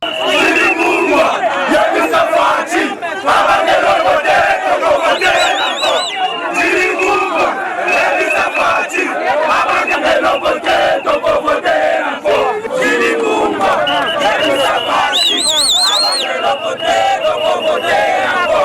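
Angry crowd at an election-time gathering shouts and chants loudly and continuously, many voices rising and overlapping in a dense, agitated clamor.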